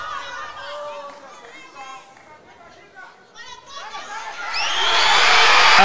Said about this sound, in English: The crowd now needs to quieten down